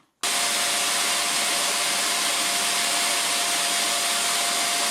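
A Silvercrest SHZK 600 A2 corded 600 W vacuum cleaner switches on abruptly and runs at a steady, loud, close-up whine with broadband airflow rush and a faint constant tone, alone and without any talking.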